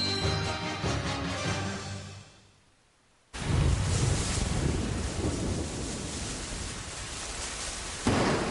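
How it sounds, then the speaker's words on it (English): Anime sound effect of a roaring gale with thunder: a rumbling stormy wash fades briefly into near silence, then a loud, sustained blast of wind slams in and keeps howling. "The wind is too strong!"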